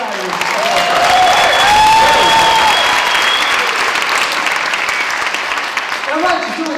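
A school-district kickoff audience claps and cheers loudly for several seconds, a dense wash of applause with whoops and shouts rising over it before tapering off.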